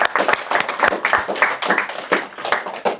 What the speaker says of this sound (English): Just give Isabella a round of applause.